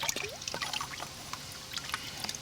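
Excess engine oil from a Ford Falcon oil change pours and dribbles into a drain pan, a soft, quiet trickle with scattered drips and small splashes.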